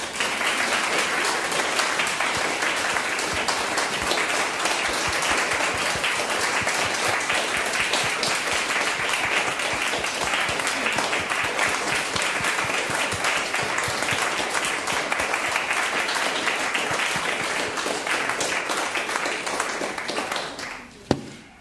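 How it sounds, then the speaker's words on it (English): A concert audience at St Mary's Perivale gives long, steady applause for a violinist and pianist, dense clapping throughout that stops abruptly near the end. "let's give a big round of applause to our musicians"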